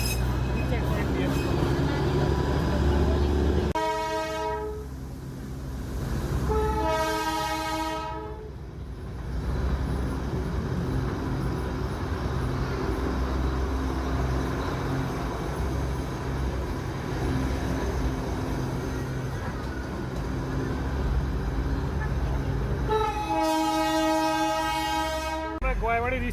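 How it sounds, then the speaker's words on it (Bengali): The Darjeeling Himalayan Railway toy train climbs at a zigzag point with a constant rumble of wheels and carriages. Three long horn blasts sound over it, and a voice talks over the ride. "এইটা এই পয়েন্ট দিয়ে আবার উপর দিকে উঠছে আমাদের ট্রেনটা।"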